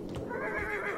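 A horse in the video game Battlefield 1 whinnies in a drawn-out, wavering neigh lasting about a second, with faint hoofbeat-like thuds underneath.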